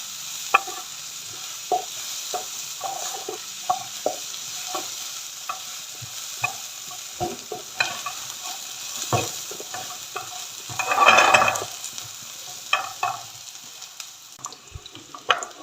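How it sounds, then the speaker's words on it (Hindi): Chopped onion sautéing in hot cooking oil in a pan, a steady soft sizzle with scattered clicks and scrapes of stirring, plus a brief louder hiss midway; no one speaks. "प्याज जो है हमारा सोते हो रहा है।"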